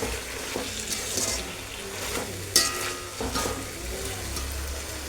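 Rice mixture with a spoonful of soy sauce being stirred in a pan for tomato rice, soft scraping strokes and a faint sizzle repeating in a loose rhythm, one sharper clink near the middle, no voices.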